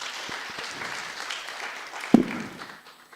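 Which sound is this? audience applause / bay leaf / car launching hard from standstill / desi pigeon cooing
audience applause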